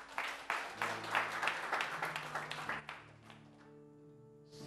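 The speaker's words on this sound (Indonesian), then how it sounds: "Tepuk tangan yang dahsyat." Audience applause at a church gathering, a dense crowd clapping loudly for about three seconds before fading as music comes in.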